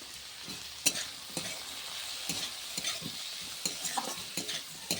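Turmeric and chilli powder are sautéed in a pan for paneer butter masala, with a soft sizzle under repeated spatula scrapes and taps in an uneven rhythm, close by and fairly quiet.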